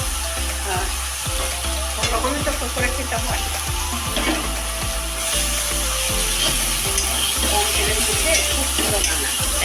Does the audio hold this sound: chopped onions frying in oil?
yes